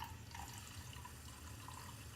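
Water runs from a sink tap into an Angry Mama microwave cleaner, a steady, close rushing and splashing flow that stays even for the whole stretch, with no talk.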